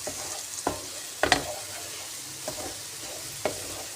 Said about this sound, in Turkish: Yumurtalarımı da koydum arkadaşlar. Karıştırıyorum.